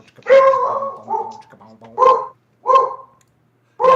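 A dog barks and yips in short bursts, three or four close, loud calls with brief gaps, in a room with no clear talk.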